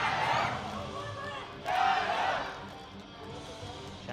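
Crowd at a beach volleyball semifinal in Shanghai chanting for China, two swelling rhythmic waves of massed voices, moderately distant and filling the venue.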